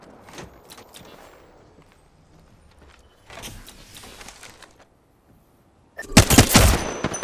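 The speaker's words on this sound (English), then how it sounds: "They spotted me. I'm taking shots." Gunfire from the Apex Legends shooter game, brief bursts of shots separated by quieter stretches with footsteps, ending in a loud close volley, no talking.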